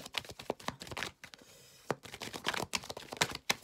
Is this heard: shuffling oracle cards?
yes